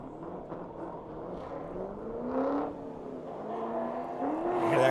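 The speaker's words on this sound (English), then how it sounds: "Hear that car now in gear, second, smashing it off" Corvette drift car at an LS engine festival accelerating hard in second gear, its engine note rising steadily in pitch and growing louder toward the end.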